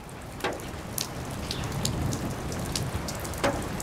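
Heavy rain pours down near the Dnieper, a broad steady wash of falling water with scattered louder drops and splashes, fairly close and continuous, with no talk.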